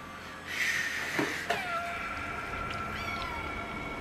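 A cat meows several times in the video game Stray, with a few drawn-out, wavering cries over faint background sound.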